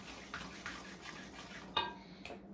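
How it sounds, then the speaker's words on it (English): Applesauce cake batter with baking soda mixed by hand in a bowl, quiet scraping and soft clinks of the spoon against the bowl's side, a few sharper knocks near the end, close and fairly faint. "Stir that"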